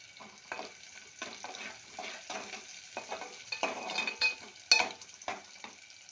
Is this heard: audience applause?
no